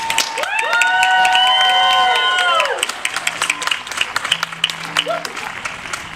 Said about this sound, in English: Let's stay on that applause train and show some love to the All City Jazz Band